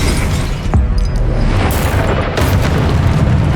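A Confringo blasting spell in the Hogwarts Legacy video game erupts in a heavy, continuous booming explosion with crackling bursts, loud and close throughout with no speech.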